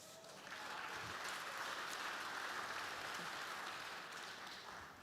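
A conference audience breaks into applause, a dense, even patter of many hands clapping at a moderate distance that swells in quickly and holds steady before easing slightly at the end.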